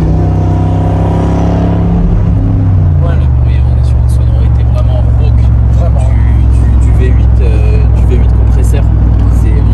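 A Mercedes G55 Brabus V8 idles loud and close, first with a deep revving drone that settles into a steady low rumble while people talk nearby.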